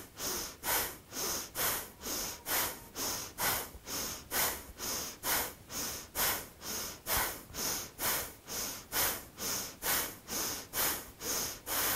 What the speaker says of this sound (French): respiration dynamique, c'est parti.